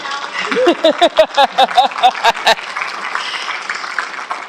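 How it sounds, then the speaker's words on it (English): A short burst of clapping from a small crowd at a League of Women Voters event in Sioux Falls, a few quick claps with voices mixed in, then fading into room murmur. "Yeah, you can applaud for that one."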